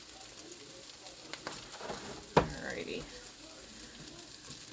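Three eggs fry in a pan over medium heat with a soft, steady sizzle, broken by a single sharp utensil clink; a voice briefly speaks.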